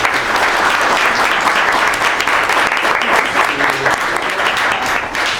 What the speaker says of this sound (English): But first, please give a round of applause.